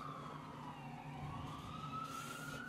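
Emergency sirens wail faintly in the distance, their pitch sliding upward, over low traffic rumble.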